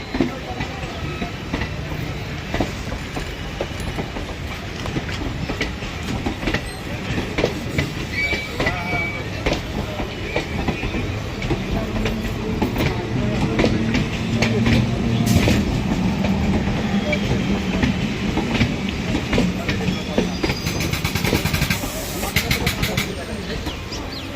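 A local train at Krishnanagar pulls out of the station, its wheels clattering in a steady rumble that builds and stays loud and close, with people talking nearby throughout.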